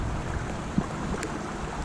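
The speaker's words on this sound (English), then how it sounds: "There's the water coming out of it." Stormwater pours out of a drainage pipe in a bioswale, a steady rushing wash of water heard up close with light wind buffeting and no voices.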